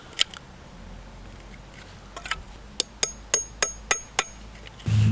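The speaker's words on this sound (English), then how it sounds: "Use my screw and hammer again to tap the pilot holes." Sharp metallic taps ring out in a quick series of about seven strikes, a hammer driving a screw to punch pilot holes in a cat food can, close and distinct against a quiet background, after a couple of scattered knocks.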